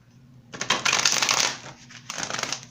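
A deck of tarot cards gets shuffled close up in two crisp riffling bursts, a long one followed by a shorter one after a brief pause, with no talking.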